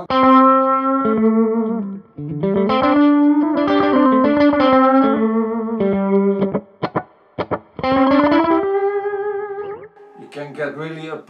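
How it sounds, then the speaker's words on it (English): An electric guitar plays bluesy phrases through a NUX analog delay pedal set to a high-mix slapback, each note followed by a quick, loud echo, with short pauses between licks. "You can get really a pronounced slapback sound."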